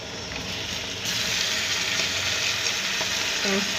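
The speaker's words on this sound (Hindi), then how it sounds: "लाल मिर्च डाल लेते हैं, उसको भी भून लेते हैं।" Red chilli fries in a karahi with a constant dense sizzle that swells louder about a second in as tomatoes are added, continuing steadily with a faint clink near the end.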